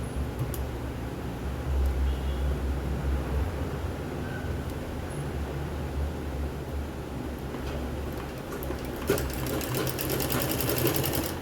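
A sewing machine runs continuously while stitching the front part of a katori blouse, a close, steady mechanical whir with rapid needle rhythm throughout, no talking.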